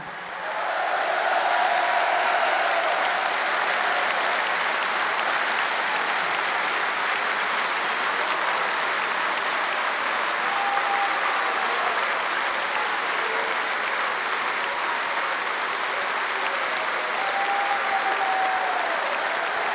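Sustained applause from a large audience at a French political rally in Paris, steady and dense for the full stretch with a faint crowd murmur and occasional distant voices under the clapping.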